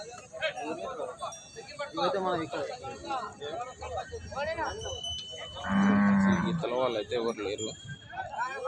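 A bull lets out a loud, drawn-out moo partway through, while people talk continuously nearby amid the bustle of the busy Pebbair bull market.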